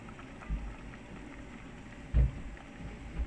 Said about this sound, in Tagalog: Ayan, kumukulo na guys.